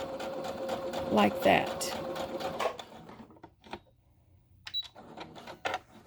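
A sewing machine makes short bursts of fine stitching on a surgical face mask, strongest in the opening seconds, then lighter intermittent whirs. A person talks over and between the bursts.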